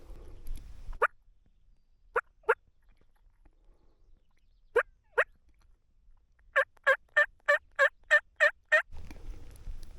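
Rio Grande turkey hens calling in Colorado spring woods: isolated single and paired yelps at first, then a quick run of about nine clucking yelps near the end, fairly close and clear over quiet background.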